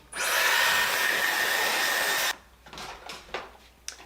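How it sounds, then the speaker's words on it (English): A loud, steady blowing roar of a hair dryer drying wig adhesive runs for about two seconds, then cuts off, followed by a few faint clicks and rustles. "blow dry them."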